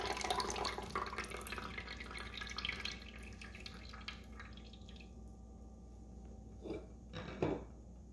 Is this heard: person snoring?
no